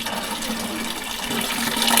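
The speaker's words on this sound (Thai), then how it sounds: "นี่น้องเพิ่นเอาน้ำเนาะ" Water being fetched and poured in a rural tribal village, a steady continuous splashing and gushing rush that builds slightly louder toward the end, heard up close with no talking.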